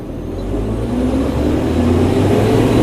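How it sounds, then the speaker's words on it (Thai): Zoomlion AC60B tracked sugarcane harvester with a 210 hp engine revving up, a close, loud low rumble that rises steadily in pitch and intensity. "เดี๋ยวจะลองเร่งดูนะครับ"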